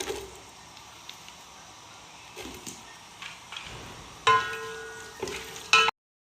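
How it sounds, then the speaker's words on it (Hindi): Chopped onions, three of them, browning in half a cup of oil in a pan for mutton dum gosht, giving a soft steady sizzle with occasional stirring scrapes and a couple of louder clanks near the end. "प्याज अपना ब्राउन करते हैं"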